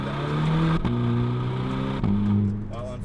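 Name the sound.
Borla S-Type exhaust on VW GTI, DSG fart on shift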